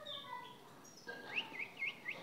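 A canary chick in a nest gives a few faint, high, thin chirps in a short series against a quiet background.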